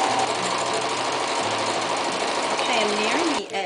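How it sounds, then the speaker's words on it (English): Sewing machine backstitching fabric to close a small herb or crystal bag: a rapid, continuous mechanical whirr of stitching, close and steady, with a voice talking alongside and a brief slowdown near the end. "I'm just going to backstitch to kind of knot it."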